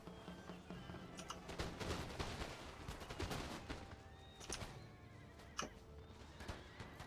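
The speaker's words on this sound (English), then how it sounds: "let's see the first volley from our elite unit" Musket volley fire from an elite infantry unit in an Empire: Total War battle as Austria, heard as scattered crackling shots mixed with horse whinnies and dense battlefield noise.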